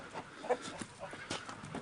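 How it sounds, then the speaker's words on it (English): A pet rooster and hen clucking near the microphone, a few short soft clucks and murmurs scattered over about two seconds against a quiet background. "that's our rooster, and his girl there"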